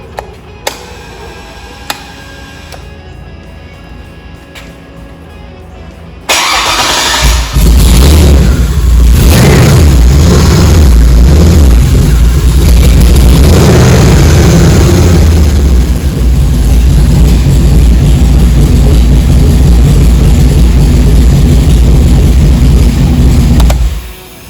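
Junkyard LS 5.3 V8 engine on an engine stand: after some quiet clicks, it cranks and fires, then runs loud and steady at idle with a deep, even rumble for the rest of the clip.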